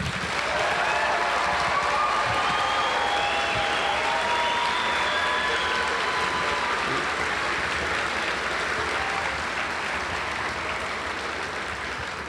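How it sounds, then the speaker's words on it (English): Sustained audience applause for graduates at a 2015 Jefferson College commencement ceremony, a dense, steady crowd clapping that fills the hall for the full stretch, with a few faint voices or whistles riding on top. "Let's give them one more round of applause, shall we?"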